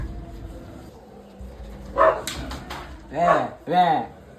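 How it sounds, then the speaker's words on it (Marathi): A dog barks three times close by, short sharp yaps spaced about a second apart, over a low background hum. "एक कुत्रा"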